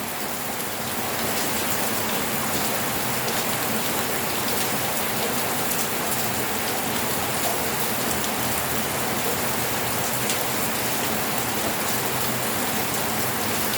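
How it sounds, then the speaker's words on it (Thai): Steady rain falls throughout, a dense even hiss of drops on surfaces, close and continuous with no talk. "ฝนตกอีกแล้วเนี่ย"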